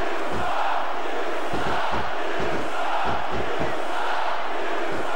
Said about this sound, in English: This capacity crowd is making their opinions known tonight.